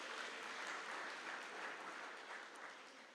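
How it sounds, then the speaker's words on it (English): Sustained applause from a lecture audience at a Freedom Day public lecture, a dense wash of many hands clapping at steady loudness that tapers slightly toward the end, with no speech. "Let's give him a round of applause."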